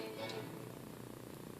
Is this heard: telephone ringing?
no